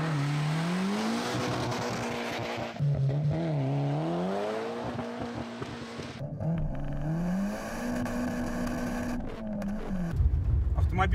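Nissan Pulsar GTI-R 2.0 turbo four-wheel-drive hatchback driven hard, heard from inside the cabin: the engine climbs and drops through repeated revving pulls and gear changes, loud and close, with a brief burst of noise at the end.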